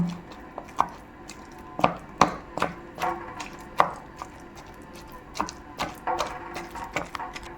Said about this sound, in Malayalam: കടച്ചക്ക നന്നായിട്ട് വേവിച്ചതാണ്, ഒരു 3 വിസിലൊക്കെ അടിച്ചിട്ടുണ്ടാവും. ഇനി നന്നായിട്ടൊന്ന് ഉടച്ചെടുക്കാം കേട്ടോ.